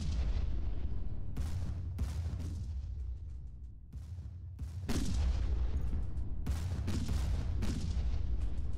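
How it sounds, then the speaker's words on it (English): Missiles fire during a space battle in the video game Stardrive 2, loud repeated launching blasts with sharp onsets and rumbling tails, several bursts in quick succession, alone with no talk. "I'd be able to get a few missiles off."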